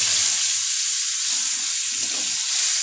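Tomatoes with salt fry in a pan with a loud, continuous sizzle and crackle, close up and steady throughout, without speech.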